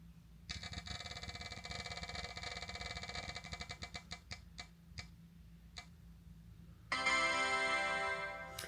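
A prize wheel clicks rapidly as it spins, and the ticking slows to sparse, separate clicks before stopping. A brighter, sustained electronic tone then sounds at the end.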